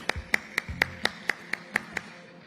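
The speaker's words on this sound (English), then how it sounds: "Can we have a huge round of applause for Rohit sir, please?" Hands clap about nine times at a brisk, steady rhythm at a business conclave and awards event, crisp and close, with no voices.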